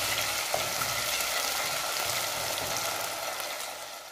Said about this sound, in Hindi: अच्छी तरह टमाटर के पेस्ट को फ्राई करेंगे ताकि अच्छा सा टेस्ट मसाले में आए